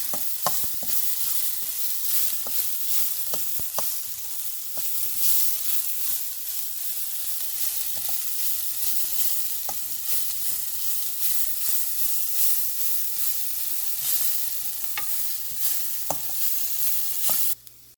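Garlic leaves stir-fried in a pan with turmeric and salt, a steady close sizzle broken by repeated scraping and clinking of a spoon against the pan throughout, with no talking.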